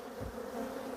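Bees droning steadily around open hive frames at an apiary, a brief, even, close buzz with nothing else over it.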